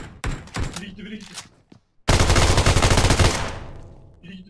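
A long, loud automatic burst of gunfire from PUBG Mobile rattles for over a second after a brief pause, with earlier shots and excited voices talking over the action.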